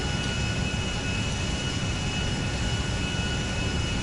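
Passenger airliner jet engines in GTA V roar as a steady, loud, broadband drone with a faint whine on top, continuous throughout and with no talking.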